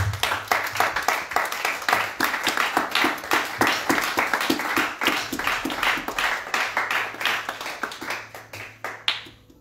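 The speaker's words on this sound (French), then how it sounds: "Est-ce qu'on peut acclamer pour Jésus?" A church congregation at an evangelical service claps in a steady, rhythmic beat, close and lively, with repeated even strikes that carry on for several seconds.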